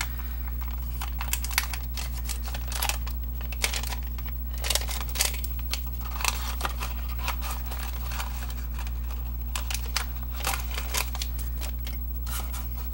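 Scissors snip through paper for a handmade purse box, a quiet run of short crisp cuts in uneven clusters over a steady low electrical hum.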